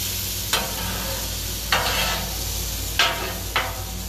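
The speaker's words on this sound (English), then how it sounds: "You don't want your shrimp to burn, so you can see it's already sizzling good" Shrimp frying in oil on a hot grill pan, a steady close sizzle throughout, broken by four sharp scraping stirs with a spatula.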